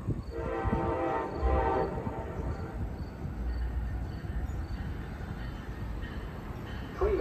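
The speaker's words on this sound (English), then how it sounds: "Train approaching. Please remain behind yellow line." A train rumbles close by at Pawtucket Central Falls station with a brief horn blast near the start, then a steady roar of wheels and carriages continues.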